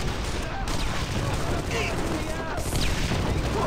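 Rapid video-game gunfire in Armed & Dangerous, a dense continuous burst of shots running the whole moment over a busy game soundscape.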